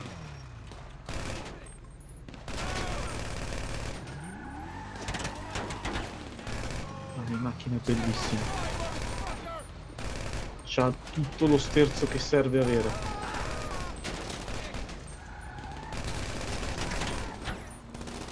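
Gunfire in the online driving-and-shooting game GTA V, heard as bursts of rapid shots, loudest around the middle of the stretch, mixed with engine noise and under continuous chatter between players.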